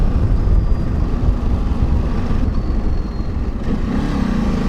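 Ducati Desert X motorcycle at speed, with a loud, steady engine and airbox intake roar mixed with wind rush, holding constant with slight swells throughout.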